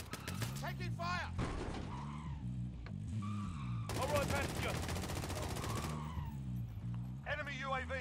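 Gunfire in a video game with vehicle driving, rapid bursts and a sustained stretch of shooting mixed with engine and skidding noise, while voices talk over much of it.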